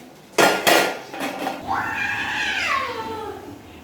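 Metal utensils clank twice against an iron karahi as Lahori chicken karahi is dished out from the pot, followed by a short rising and falling voice-like sound, loud and close.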